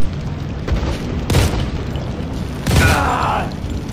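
A breaching explosion and gunfire in the Modern Combat 4: Zero Hour video game, with heavy booms and sharp bursts over a few seconds, close and loud.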